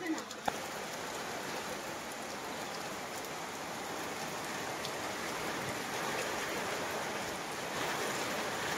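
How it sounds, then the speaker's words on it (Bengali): Heavy rain pours down steadily over a Bangladeshi village, a dense even hiss of drops on surfaces with faint birds in the distance, moderately quiet and continuous. "এখন বৃষ্টি প্রচুর বাড়ছে"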